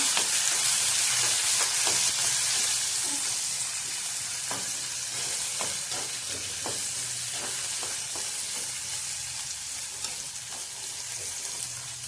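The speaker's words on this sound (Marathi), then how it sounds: "आता ह्यात आपण ताजा मटार घेतलेला ते घालून घ्यायचा आहे। तेलात चांगला परतून घ्यायचा।" Fresh peas being stir-fried in oil with softened onion, a bright continuous sizzle with light scraping stirs and small clicks throughout, close and moderately loud.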